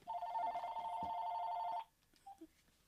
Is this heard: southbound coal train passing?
no